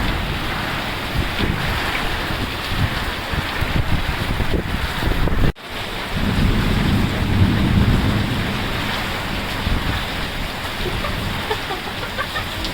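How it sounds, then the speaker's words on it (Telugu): The year's first rain falls on farmland as a loud, steady rush of heavy rainfall that continues without a break, with one brief dropout partway through. "ఇప్పుడు బాగా వర్షం పడతాను"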